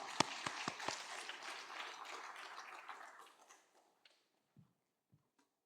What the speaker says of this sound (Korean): 우리도 하나님께 영광의 박수 올리겠습니다.